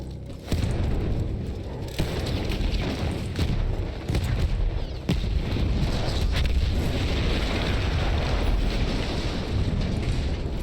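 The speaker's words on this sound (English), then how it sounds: "That explosion was one of the sweetest sights of the war for me." Explosions and battlefield din in Battlefield 1 come as a heavy, rumbling roar with deep booms and wind-like noise, loud and continuous, broken by sharper cracks throughout.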